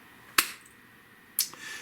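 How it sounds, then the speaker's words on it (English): Two sharp, bright hand claps, widely spaced and alone against quiet room tone, the second followed by a faint softer tap. "A magic clap."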